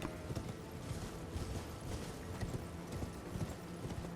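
Horse hooves gallop at a steady, rapid rhythm in the video game Elden Ring, fairly quiet and continuous with no one speaking.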